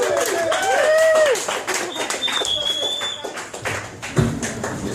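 Audience applause for a piano player at a pub gig, claps and cheers rising briefly under voices and chatter before thinning out.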